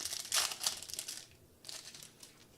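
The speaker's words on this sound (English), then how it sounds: "I'm going to rip this last pack right now." A Bowman baseball card pack being torn open by hand: close, crisp crinkling and tearing of the foil wrapper in a few quick bursts, then softer rustling, with no talking.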